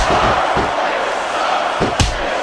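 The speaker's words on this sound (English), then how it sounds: "Wow, listen to that chant, Taz." Crowd noise in a WWE SmackDown vs Raw 2006 wrestling video game match, a loud continuous roar from the arena audience with a few thuds and a sharp slam near the end, and commentators talking over it.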